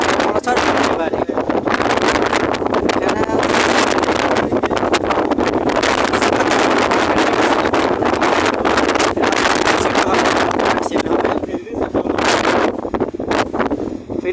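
Strong wind buffets the microphone in a loud, constant roar over the drone of a ferry at Taltali ferry ghat, Barisal, during a cyclone, with muffled voices breaking through now and then.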